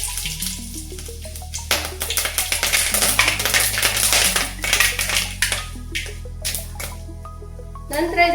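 Mustard seeds sputter and crackle in hot oil in a pan, with bursts of spattering from moisture in the seeds. A voice speaks over the sizzling.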